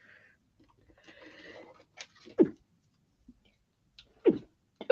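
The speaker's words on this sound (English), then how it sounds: "oh dear, I'm gonna sneeze now." Two sharp sneezes from a person, the first around mid-clip and the second near the end, each a short close burst separated by quiet breathing and faint rustling.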